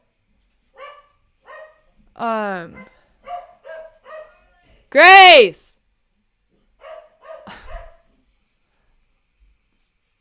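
Several dogs bark in short sharp bursts, with one longer, louder yelping howl in the middle, close by, while a person calls out once.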